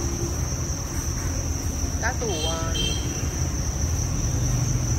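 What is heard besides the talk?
crickets chirping at a cricket farm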